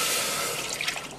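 Milk poured into a pot or bowl for ashta custard, a short faint liquid splash and trickle, close by and heard alone.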